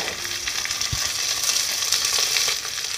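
Mixed vegetables for araka rice bath go into a hot pan and are stir-fried, giving a steady loud sizzle and hiss with a few scraping stirring knocks and no talking.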